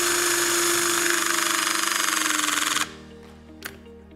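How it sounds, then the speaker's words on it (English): A battery-operated Questok self-piercing rivet gun drives a rivet through material, giving a loud sustained mechanical whine and rattling drive that stops abruptly, followed by a faint click. "Self-piercing rivet applied through the material."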